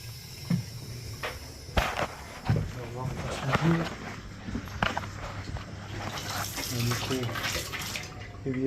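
Water rushes into newly repaired plumbing where old lead pipe joins copper, a steady close hiss and gurgle under someone talking.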